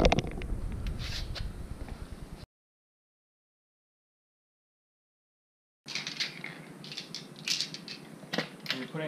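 Lug nuts threaded and ratcheted onto a car wheel being reinstalled during a foglight replacement job, quick clicking ratchet and mechanical clatter, a silent gap, then more clicks and clanks up close.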